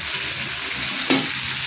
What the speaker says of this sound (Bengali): গাইস দেখতেই পাচ্ছ আমাদের চিংড়ি মাছ রান্না হচ্ছে।